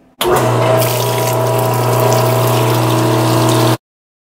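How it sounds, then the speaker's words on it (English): Pump on a commercial Ultrafryer deep fryer pushing cooking oil through a wash wand hose into a heat-resistant container, a steady loud hum with liquid rushing that runs several seconds before cutting off abruptly. "We're now going to use the wash wand hose to evacuate that oil and put it into a heat-resistant container."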